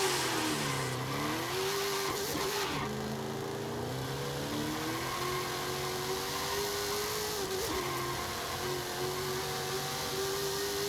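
A Chevrolet Nova drag car engine in Forza Horizon 5 revs steadily and loudly throughout, its pitch rising and falling in long sweeps with a strong, continuous mid-range drone and a slight dip in the middle.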